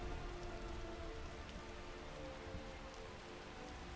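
Steady rain pours down in the video game Skyrim, a dense, even hiss that fills the whole stretch at a constant level, with no voices over it.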